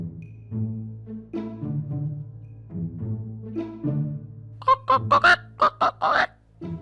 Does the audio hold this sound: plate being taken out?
no